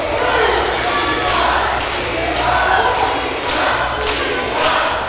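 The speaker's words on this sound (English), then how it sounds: "Everybody is cheering for Eli right now." An arena crowd at a Reality of Wrestling match roars and cheers for Eli Knight, a dense, loud, steady wall of voices with swelling waves, probably with a commentator talking over it.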